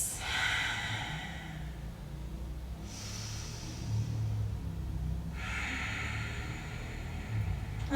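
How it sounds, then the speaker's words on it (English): Two slow, deep breaths during a yoga flow, each a long airy inhale and exhale, close and soft over a quiet hiss with no talking. "Take 2 deep breaths."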